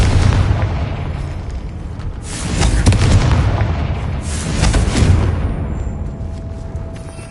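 Confringo blasting spell explosions in Hogwarts Legacy, two loud, deep booms a couple of seconds apart, each swelling and rumbling off before the next, over a low background din.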